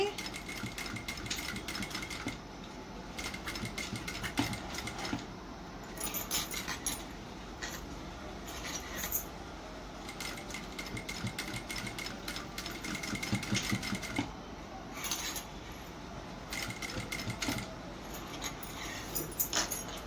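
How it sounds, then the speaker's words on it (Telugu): A sewing machine runs continuously while lock stitching a plain blouse, with a dense, even mechanical rattle that stays at a constant level throughout. "మళ్ళీ ఇలాగ సైడ్కి తిప్పుకొని లాక్ స్టిచ్ వేసుకోవాలి"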